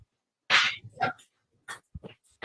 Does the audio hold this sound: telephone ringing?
no